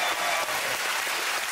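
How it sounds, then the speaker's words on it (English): A TV chat-show studio audience claps steadily throughout, loud and dense, with no talk over it. "why are they clapping?"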